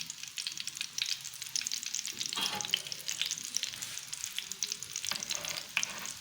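Fish bowlers frying in a pan over raised heat, a close, continuous crackling sizzle with a few brief stirring or turning scrapes.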